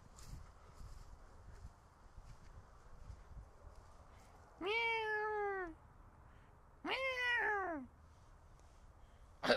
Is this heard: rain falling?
no